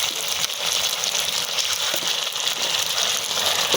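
Ginger and garlic paste fry with onions for a vegetable biryani. The sizzle is a dense, even hiss throughout, close and steady, with no talking.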